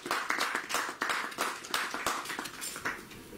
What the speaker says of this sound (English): Give them a clap offering.